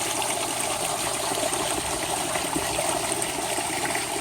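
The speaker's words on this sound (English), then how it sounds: "white water rapids under the 20-inch spinning ball" White water rapids churn under a 20-inch spinning ball in a koi pond, a steady loud rushing of water with no pauses and no talk.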